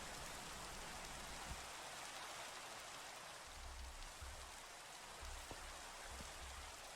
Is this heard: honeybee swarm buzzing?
no